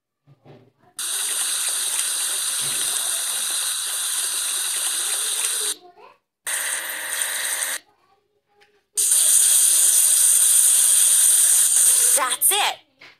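Water sprays in three long hissing bursts to wash a submarine in a children's puzzle game, loud and close, with brief pauses between bursts and a short chime near the end.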